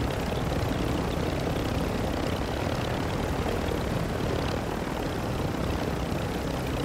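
Helicopter rotor noise in Call of Duty DMZ, a steady, loud broadband drone that holds throughout without any talk, the engine and blade wash blending into a continuous overhead roar.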